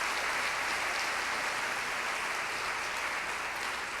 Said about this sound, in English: please a warm round of applause for all of our generous sponsors